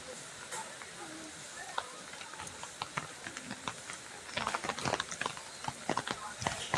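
Horses' hooves clip-clop in an irregular patter along the crowded pilgrimage path to Vaishno Devi, growing busier and nearer toward the end amid a murmur of walking crowds and voices.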